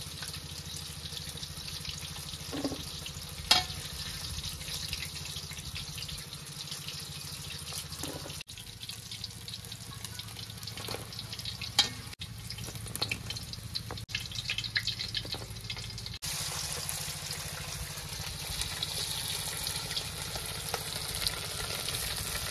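Bhetki fish frying in a pan, a quiet steady sizzle running throughout with a few sharp clinks and clatters, with no voices.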